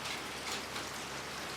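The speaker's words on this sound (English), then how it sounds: "it's raining a lot" Heavy rain falls in a steady, even hiss of dense drops on surfaces outdoors, fairly faint and constant, with no voices.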